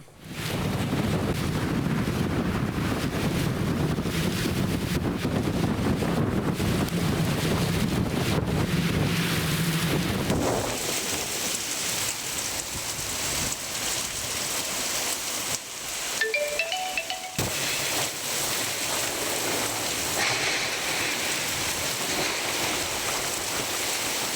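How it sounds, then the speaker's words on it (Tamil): Strong wind roars and buffets the microphone over a dense wash of heavy rain in Avadi, Chennai, easing partway through into a steadier hiss of rainfall. "ஆவடியில் பலத்த காற்றுடன் கூடிய கனமழை பெய்தது"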